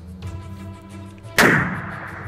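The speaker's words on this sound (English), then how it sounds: "I made the call, and I said for him to take the shot anyway" A single loud rifle shot fired at a Coues deer during a hunt in misty weather, a sharp blast after a quiet stretch, followed by a ringing decay.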